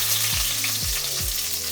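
Onions hit a hot pan with garlic and fry with a loud, steady sizzle, while a few low thuds of stirring sound underneath.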